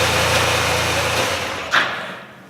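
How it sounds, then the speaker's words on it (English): A Honda Silver Wing 600 motor scooter's engine idles loudly and steadily up close for over a second, then cuts off with a brief thump and fades to quiet. "Screaming over that loud engine"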